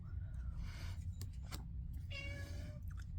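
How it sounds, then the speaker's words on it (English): A pet cat meows several times, soft and fairly close, in a quiet indoor room with no talking. "You will hear my cat too."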